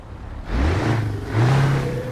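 A Scania truck engine in Euro Truck Simulator 2 revs up twice in quick succession, each rise a deep climbing drone, with a hiss under it, near and fairly loud.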